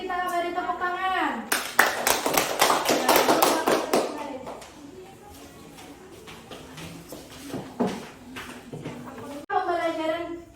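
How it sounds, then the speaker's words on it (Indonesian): Students in a classroom clap together in a burst of quick, uneven claps that tapers off, with a voice and other speaking voices around the applause. "Untuk kelompok lain, mari kita beri tepuk tangan."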